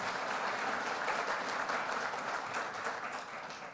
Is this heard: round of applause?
yes